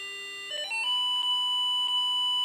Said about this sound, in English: that the frequency of the buzzer changes completely